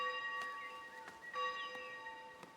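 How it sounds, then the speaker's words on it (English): Church bells ring in the city-building game Foundation, several faint, evenly spaced peals with sustained ringing tones over a quiet background. "There, the church bells ring."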